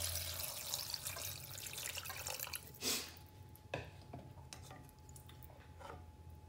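Three cups of water splash and trickle into a saucepan, with a few clinks of metal cookware and drips in a quiet kitchen.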